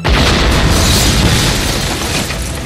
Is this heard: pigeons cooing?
no